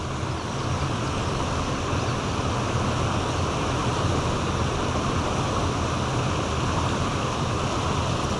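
Loud, constant roar of water rushing over a small spillway, a dense unbroken wash of noise with no pauses, close by.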